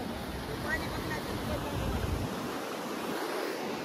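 Water rushes in a steady broadband roar as an overfull village lake spills over its edge, a continuous churning wash heard from close by with some wind buffeting the microphone.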